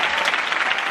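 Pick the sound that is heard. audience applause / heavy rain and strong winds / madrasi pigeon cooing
audience applause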